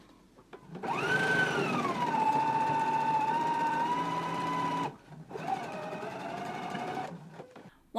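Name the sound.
sewing machine reinforcing a stitch on pants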